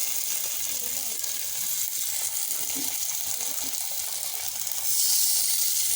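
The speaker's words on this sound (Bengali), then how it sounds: "এই তো এইরকম করে চুলোতে বসিয়েছি। মাছ ভাজা তেলের মতো করে ভেজে নেব।" Vegetable patties fry in a little oil on a stove, giving a steady close sizzle that runs throughout and grows louder near the end.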